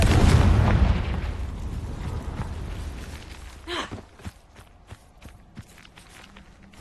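A Confringo spell in Hogwarts Legacy erupts in a loud, booming blast that rumbles and fades over a few seconds, followed by a scatter of sharp crackles, pops and footstep-like clicks as debris settles.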